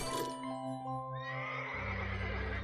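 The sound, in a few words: horse neighing in video game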